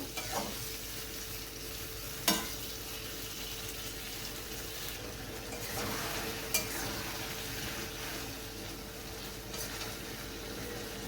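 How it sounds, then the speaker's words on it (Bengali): Spices stirred and fried with a spatula for a hilsa fish curry: a steady close sizzle with soft stirring scrapes and a couple of sharp clicks of the spatula against the pan, no voices. "খুন্তি দিয়ে ভালো করে নেড়ে মশলাটা আমি কষিয়ে নেব"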